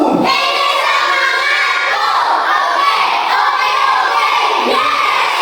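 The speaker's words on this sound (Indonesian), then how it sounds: "Beri tepuk tangan anak." A classroom of schoolchildren clapping and cheering loudly together, a continuous bright roar of young voices and hands, close and sustained for about five seconds.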